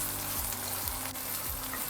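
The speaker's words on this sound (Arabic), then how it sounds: "هبدأ اخد الكبد والقوانص بتاعتي انزل على البصل عشان اشوحها كويس وتبدأ تدخل في السوا." Chicken liver and gizzards sauté with golden onions in a pan, a steady close sizzle with a few soft stirring scrapes and no talk.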